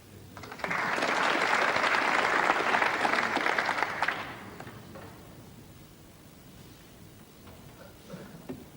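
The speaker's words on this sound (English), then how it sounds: "applause there for an extremely good snooker" Applause from a snooker audience at the 1989 UK Championship after a fine shot, a dense burst of clapping that swells quickly, holds for about three seconds, then cuts off into quiet hall ambience.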